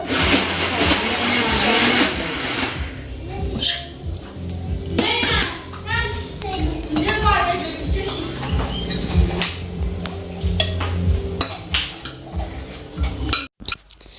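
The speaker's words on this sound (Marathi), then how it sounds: "मी याने पळीनेच टाकते" A ladle dishes kheer at a family gathering, with light metallic clinks and scrapes against the pot under lively voices and children's chatter.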